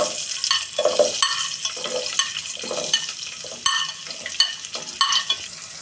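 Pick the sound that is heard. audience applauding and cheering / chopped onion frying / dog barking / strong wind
chopped onion frying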